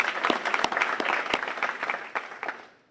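Audience at an Austin ISD bond package victory event bursts into applause, a dense continuous clapping that holds steady for a few seconds before thinning out and fading at the end.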